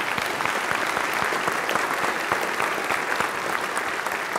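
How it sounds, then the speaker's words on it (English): A church congregation gives a sustained round of applause after a homily mention, a dense, even roar of many hands clapping throughout, moderately loud and unbroken. "Give her a wonderful round of applause."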